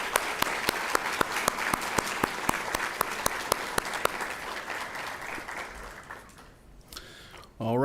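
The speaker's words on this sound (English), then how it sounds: "Let's all give Judy another big round of applause." Audience applause at a university conference on social and emotional learning, steady and fairly loud with sharp individual claps standing out, fading away near the end before a brief burst of noise.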